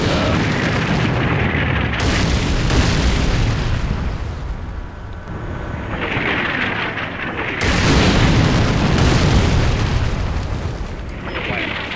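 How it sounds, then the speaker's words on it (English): Air-burst artillery shells explode near a tank in the Combat Mission Black Sea video game, a loud, continuous barrage of heavy booms with sustained rumble surging in several waves and no voices. "They're using air bursts near that tank"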